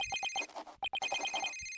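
A telephone rings in the Ace Attorney video game, with a rapid electronic trill in repeated bursts and a brief gap midway, clear and alone.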